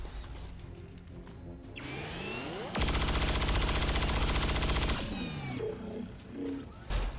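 Sustained automatic gunfire from the XCOM 2 video game, a loud dense burst of rapid shots lasting about two seconds, framed by sweeping game effects and whooshes before and after.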